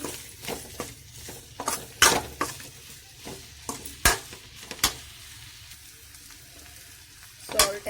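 Potato filling with green chili fries in a pan, a soft steady sizzle broken by sharp clinks and scrapes of a spoon stirring against the metal.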